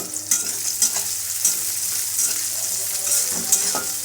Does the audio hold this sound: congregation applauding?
no